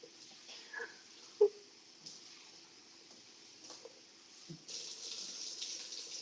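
Water runs from a kitchen tap while items are rinsed, a faint steady trickle with a few soft clatters and splashes, growing a little louder and fuller in the last stretch.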